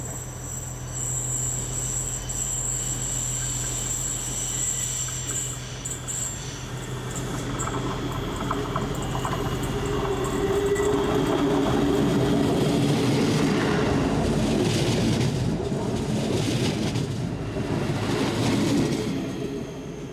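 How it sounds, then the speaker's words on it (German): An oncoming train rumbles past on the Danube Valley Railway toward Beuron, rising from a steady hum to a loud close roar of wheels and cars, with insects chirping in the background. "Und jetzt kommt schon der Gegenzug."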